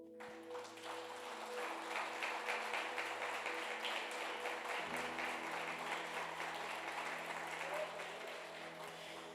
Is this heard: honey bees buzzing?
no